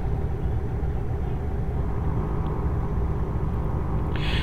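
Scania truck engine in a trucking video game: a steady, low diesel rumble drones continuously at an even level, with no speech.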